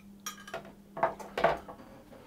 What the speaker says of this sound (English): is to place my 2 cups of milk into a saucepan